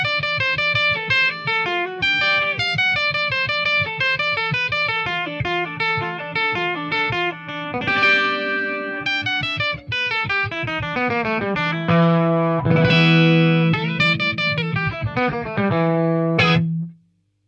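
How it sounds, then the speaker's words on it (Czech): Clean electric guitar through a Morpheus Capo pedal in octave-up mode, a continuous run of picked notes and chords with a doubled higher octave, loud and close with no talking. "do režimu, kdy se nám z našeho původního signálu stane vlastně signál o oktávu výš"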